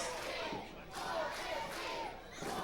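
A wrestling crowd at a DREAMWAVE tag team gauntlet match roars and chants behind Mr. 450, a dense, sustained wall of voices swelling and dipping in waves.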